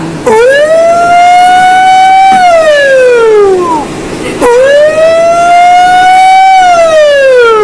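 A voice mimics an ambulance siren, two loud drawn-out wails that climb, hold, then slide down, with a brief pause between them.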